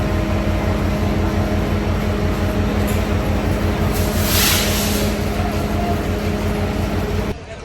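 Steady low rumble and hum of a train at a railway station in Bangladesh, loud and continuous, with a brief hiss in the middle and an abrupt drop near the end; no talk.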